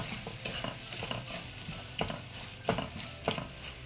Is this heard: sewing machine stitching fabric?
no